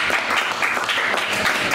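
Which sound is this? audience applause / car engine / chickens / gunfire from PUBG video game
audience applause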